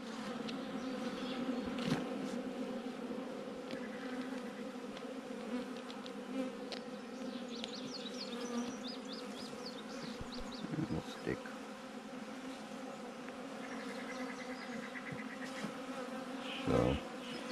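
Honey bees from a swarm trap buzz steadily and close around a small piece of comb, a dense continuous hum with brief louder passes as individual bees fly near.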